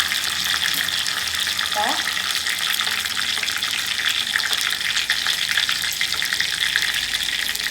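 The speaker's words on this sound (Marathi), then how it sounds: "मोहरी त्या फोडणीमध्ये टाकायची।" Mustard seeds sputter and crackle in hot oil for a Maharashtrian tempering, a dense, steady sizzle with fine popping that runs the whole time, close and fairly loud, with a brief spoken word over it.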